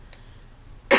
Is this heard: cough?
yes